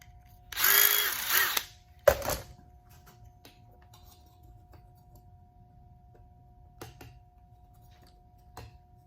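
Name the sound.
drill with step bit deburring a hole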